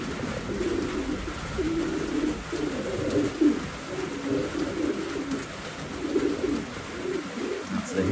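Racing pigeons cooing in a loft during breeding season, a continuous chorus of low, rolling coos from many birds close by, with no talk.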